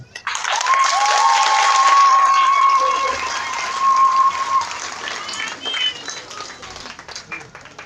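Crowd of twins at an association of twins event in Côte d'Ivoire clapping for themselves, a broad sustained applause that swells then thins out, with a voice carrying over the start.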